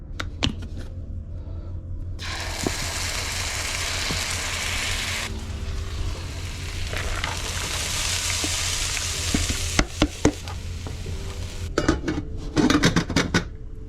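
Chili ingredients sizzle and fry in a hot pan, a steady loud hiss with spoon scrapes and clinks against the pan, ending in a burst of brisk stirring and metal knocks.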